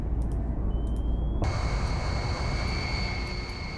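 Airliner engines in the Sea Power naval combat game drone as a loud, steady jet roar with a whining tone that swells in partway through and holds to the end, with no voices.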